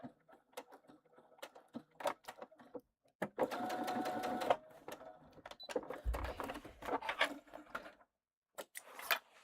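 Sewing machine back-stitching along a tote bag seam, short bursts of rapid mechanical stitching separated by pauses and clicks, fairly close, with a faint voice in the background.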